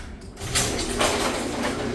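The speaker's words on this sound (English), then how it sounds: "let me open up this garage door." A garage door opens nearby with a sustained rumbling, rattling mechanical noise that starts about half a second in and continues steadily, with no talking.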